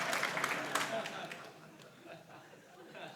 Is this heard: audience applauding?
yes